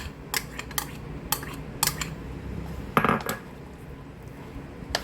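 Chicken breast is mixed in a bowl with a utensil, making clinking taps and scrapes against the dish in a loose rhythm, with a louder cluster of knocks partway through.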